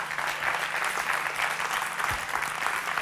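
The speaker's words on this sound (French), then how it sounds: "Vous pouvez les applaudir" A live studio audience at a French hypnosis show applauding steadily, dense continuous clapping held at an even level throughout.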